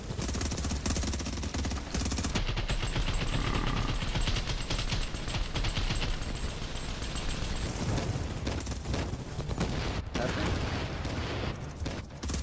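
Rapid video game gunfire from a Shredder weapon rattles almost nonstop in dense bursts, loud and close, with excited players talking over the shooting.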